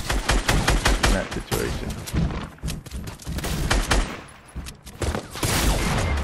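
Rapid gunfire and bursts of shots during a Fortnite duo-squad fight, loud and continuous across the clip, with a player's voice talking over the shooting.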